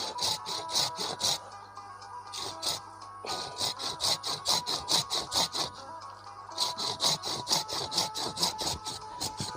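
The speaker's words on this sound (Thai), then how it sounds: "รู้สึกเลื่อยผมจะไม่ค่อยคมนะฮะ" A hand saw rasps through bonsai tree wood in quick rhythmic back-and-forth strokes, three bursts of sawing separated by short pauses, close and steady; the saw is blunt.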